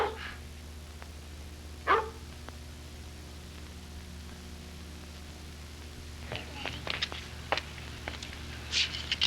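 A dog barks and yips in a 1932 domestic family scene: a sharp bark near two seconds, then a cluster of short yips and whimpers toward the end, over a steady low hum of old film soundtrack noise.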